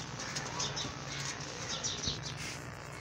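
Pure Teddy pigeons flapping their wings, a steady fluttering rustle of feathers close by with faint background noise, lasting throughout.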